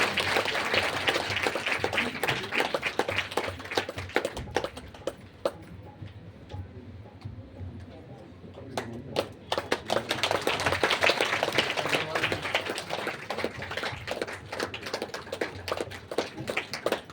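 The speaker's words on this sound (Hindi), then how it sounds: "ट्रस्ट के लोग आएंगे, आप तालियां बजाएं।" Audience applause at a gathering, dense clapping that dies down briefly in the middle and then picks up again into a long stretch of steady claps.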